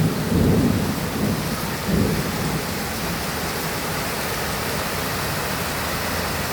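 Heavy rain falls steadily, with low rumbles of thunder rolling in the first two seconds before the downpour carries on alone as a dense, even wash, no voices.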